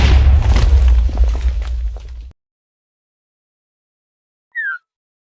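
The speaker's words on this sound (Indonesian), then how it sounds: "Yaudah aku ledakin sekarang." A Creeper explodes in a Minecraft-style video game with a loud, close blast that rumbles and decays for about two seconds, then cuts to silence before a brief high chirp.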